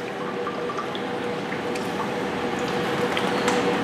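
Pineapple juice pours steadily into a pan for a few seconds, a soft continuous splashing with faint drips, close by.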